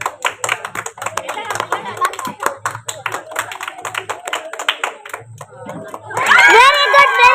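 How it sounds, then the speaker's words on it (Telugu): Party guests clap to cheer on a child tossing balls into a box during a New Year's Eve game, steady rhythmic applause with some voices through most of it, then a burst of louder cheering and shouting near the end. "చప్పట్లు ఎంకరేజ్ చేయాలి."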